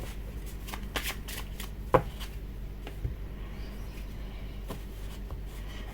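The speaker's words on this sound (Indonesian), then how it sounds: "Sekarang aku akan bagi kartunya dulu ya teman-teman." Tarot cards are shuffled and dealt close by, a run of soft riffling flicks and sharp card snaps, one louder slap near the start.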